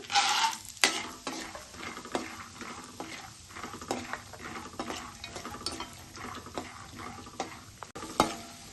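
Peanuts frying in oil for a flattened-rice snack mixture, a soft sizzle broken by repeated scraping stirs of a spoon in the pan, with a sharp clatter near the start and again near the end.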